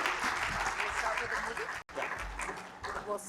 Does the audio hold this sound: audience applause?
yes